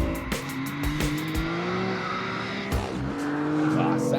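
BMW M4 engine roaring on a race track, a throaty, loud rising drone with sharp gear-shift breaks and a hint of tire squeal, close and continuous for a few seconds.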